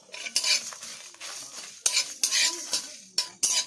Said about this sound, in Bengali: এবার আমি সব মশলাগুলো ভেজে নেব।